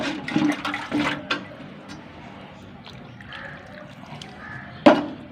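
Water pours into two garlic plant pots at home, a splashing, trickling flow that comes and goes in bursts, with someone speaking over parts of it.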